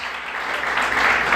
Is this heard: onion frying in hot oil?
no